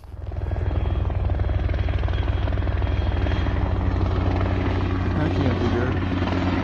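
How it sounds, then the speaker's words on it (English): A helicopter flies close overhead during an outdoor adventure weekend, a loud continuous rotor thump and engine drone that quickly swells and stays steady, with someone talking briefly beneath it. "Watch out for helicopters that fly by."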